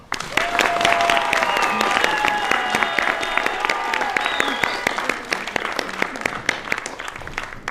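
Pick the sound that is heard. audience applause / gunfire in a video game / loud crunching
audience applause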